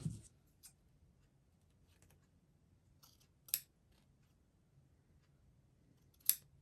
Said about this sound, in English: you want to take and cut the beard down the middle, a slit down the middle to go around that nose